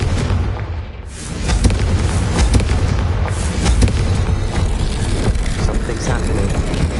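A Confringo spell goes off in a video game, a loud, continuous booming explosion with rumbling low end and crackling bursts rolling on for several seconds, with game sound layered around it.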